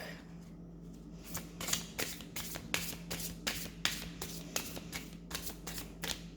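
An Everyday Witch tarot deck being shuffled, a run of quick papery riffles and soft snaps in a fairly steady rhythm, close and clear against a quiet room.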